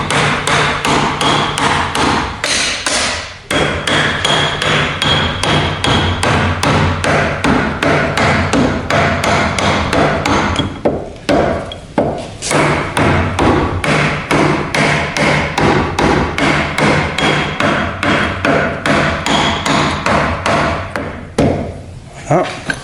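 Rapid, steady hammer blows strike metal parts during repair of the bellows on a D21 accordion, dozens of loud close-up taps in a continuous run with a few brief pauses.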